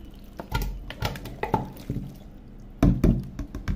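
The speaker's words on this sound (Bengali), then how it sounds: "এই পাতিলে ঢেলে দিই পুরো" Marinated duck meat with spices and mustard oil tipped into a cooking pot, a run of thick wet slops and knocking thuds against the pot, several heavy dumps in quick succession.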